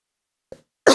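One short, sharp cough from a person breaks a near-silence, after a faint soft sound just before it.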